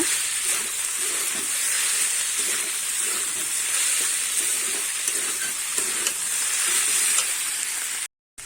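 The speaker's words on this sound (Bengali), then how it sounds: "এবার ভেজে রাখা আলু আর বাদামটা দিয়ে দেব। দিয়ে আবার ভালো করে নেড়ে চেড়ে নেব।" Potatoes and peanuts, fried earlier, stirred through a pan of cooking vegetarian banana-stem mix, giving a steady loud sizzle with soft scraping strokes throughout and a brief gap near the end.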